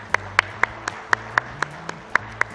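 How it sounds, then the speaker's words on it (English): At a Hindi film industry gathering, a handful of sharp, evenly spaced claps ring out one after another, sparse and distinct rather than a full ovation, over a low steady hum in the room. "So huge round of applause to all these films."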